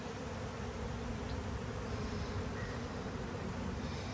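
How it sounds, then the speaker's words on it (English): Wild honey bees swarming during a hive rescue in a neighborhood, a continuous, dense buzzing drone from many insects, faint but steady and unbroken. "You can see the amount of bees flying around here."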